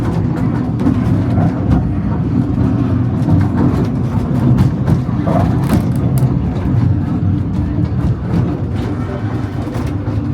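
Riding a miniature park railway train at a seaside funfair on Hayling Island: a loud, steady rumble of wheels on track with rattling and clacks throughout, heard from on board.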